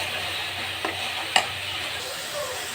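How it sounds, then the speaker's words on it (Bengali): Ground spices for quail curry, including cumin powder, stir-fried in a pan, giving a soft steady sizzle with a couple of brief scraping stirs. "তো সব মশলা আমি এখানে ভালোভাবে কষিয়ে নিব।"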